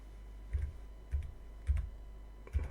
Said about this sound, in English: Just type that in.